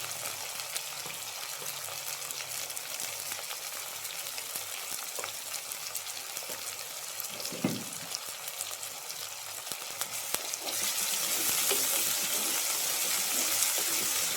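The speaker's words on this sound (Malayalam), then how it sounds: "ചെറിയ ഉള്ളി ചതച്ചത് ഇട്ടുകൊടുക്കും" Crushed shallots sizzle with salt in hot oil for a Kerala Kuttan roast, a steady moderate frying hiss with occasional stirring clatter that grows louder near the end. No voices are heard.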